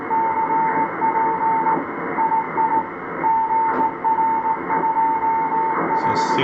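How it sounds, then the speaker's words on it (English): Morse code on a shortwave receiver near 4477 kHz, a thin steady tone keyed on and off in a regular pattern over dense radio hiss with recurring soft swooshes. "Just gonna check out if it sends the same Morse code."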